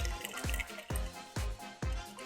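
A mango gin and tonic cocktail is dumped back into its glass in four quick splashing pours, each a short liquid slosh with ice rattling, close and fairly clear.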